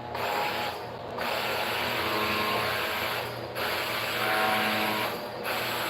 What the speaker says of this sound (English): It's the all-clad. Look how huge it is. Great motor. It has a high speed.